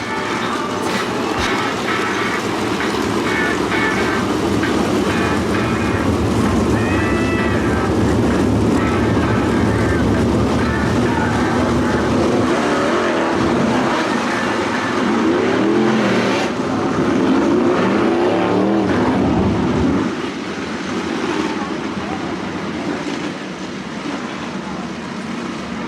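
305 sprint cars racing at Attica Raceway Park, a continuous loud roar of engines droning steadily throughout with no talk over it, swelling slightly near the middle before easing toward the end.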